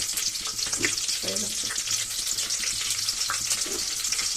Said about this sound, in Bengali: ফোড়নটা কয়েক সেকেন্ডের জন্য ভাজতে দেবো